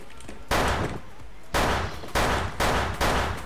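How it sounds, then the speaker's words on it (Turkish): Magnum revolver shots in the online shooter WolfTeam, five loud sharp reports spaced about half a second to a second apart, each with a short echoing tail. "Ama magnumla atıyorum"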